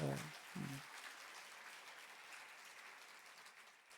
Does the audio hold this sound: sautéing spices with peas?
no